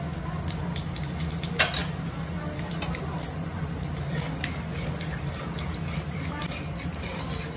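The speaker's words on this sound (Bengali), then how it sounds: "তেল গরম হয়ে গেছে, শুকনো লঙ্কা দিয়ে দিলাম ফোড়ন, আর দিয়ে দিলাম তেজপাতা আর গোটা জিরে।" Dried chillies, bay leaves and whole cumin sizzle in hot oil in a pan. The frying hiss is close and steady, with small scattered crackles over a low background hum.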